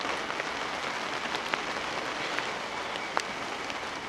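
Rain patters on and around a parked Fiat Panda 4x4 Sisley in the UK, a steady hiss of drops with a few sharper taps standing out, and no one speaking.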